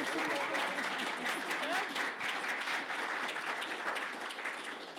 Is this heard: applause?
yes